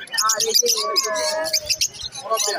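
Lovebirds and budgies chirp and tweet in quick, bright bursts throughout at a pet market in Dakshineswar, with someone speaking over the birdsong.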